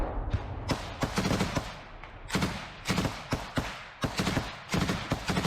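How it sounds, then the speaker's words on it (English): Rapid bursts of rifle fire from a drum-fed weapon, loud sharp cracks in uneven clusters of several shots with brief pauses, no talking. "each one of these shots is a nasty like rifle bullet"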